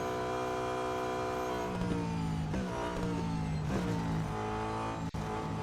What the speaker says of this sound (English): Car struggles up that hill though.